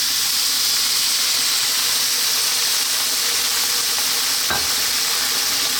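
Loud, steady sizzling and hissing as water hits vegetables in a hot pan over high heat, with a brief sharp crackle partway through.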